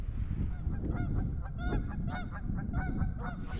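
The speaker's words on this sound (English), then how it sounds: "Those geese just landed on ice." A flock of geese honks continuously and loudly over a frozen lake while landing on the ice, with many overlapping calls and a constant rumbling background.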